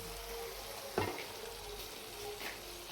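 A cashew, poppy seed and melon seed paste fries in oil with a steady low sizzle, broken by a sharp scrape of stirring near one second and a softer one later, with no voices.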